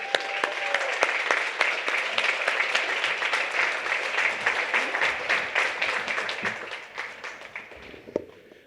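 Sustained audience applause at an evening clean power awards event, dense clapping from a large room that stays loud for most of the stretch and then tapers off near the end.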